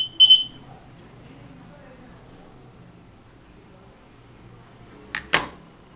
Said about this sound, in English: Doctor waiting for a patient is indicated by the blue blinking light and beep sound.